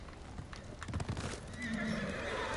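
A horse whinnies and its hooves clip-clop in the video game Ghost of Tsushima, hoof beats followed by a loud neigh, with a steady background wash throughout.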